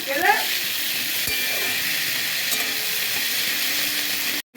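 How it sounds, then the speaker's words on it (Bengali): Chopped tomatoes with green chili sizzle loudly and steadily in a hot pan, with a few scrapes of stirring near the start, ending in an abrupt cut. "এটাকে এবার ভেজে নেব"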